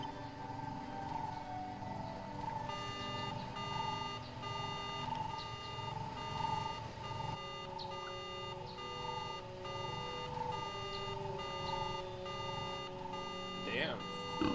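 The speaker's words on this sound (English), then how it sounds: "Slice into the speeder and activates an alarm system." A repeating electronic alarm beeps steadily throughout, triggered by slicing into a speeder in Knights of the Old Republic on the Switch, layered with game music and ambient sound.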